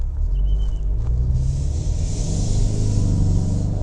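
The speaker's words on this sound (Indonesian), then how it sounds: "sekarang mari kita geber-geber Ford Mustang EcoBoost ini." A Ford Mustang with the 2.3-litre EcoBoost engine revs up close by, a deep, loud rumbling exhaust note that rises and holds with a throaty, pulsing drone and no talking.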